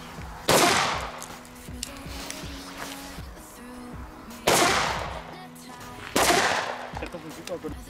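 A New Year's Eve firecracker explodes outdoors in three sharp, loud bangs spaced a few seconds apart, each with a ringing decay, over a faint crackling and hissing background.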